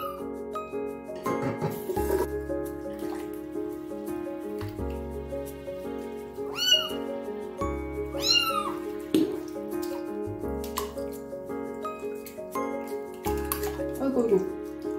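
Newborn kittens meow in rising, wavering cries during their first bath, several calls spread out over running, dripping water while someone talks over them nearby.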